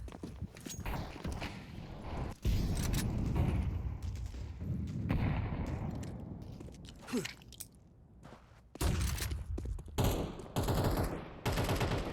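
Gunshots in a Counter-Strike style match on the Mirage map, with several loud bursts of fire and impacts separated by quieter stretches of footsteps and movement.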